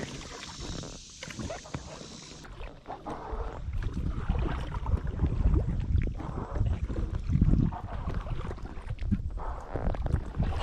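Kayak paddling on open water, with irregular splashes and sloshing strokes under steady wind and broadband outdoor noise that grows louder midway.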